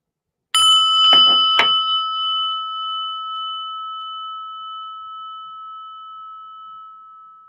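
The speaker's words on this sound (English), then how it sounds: "listen to the bell" Three quick bell strikes ring out, then one clear tone lingers and slowly fades over several seconds in an otherwise silent space.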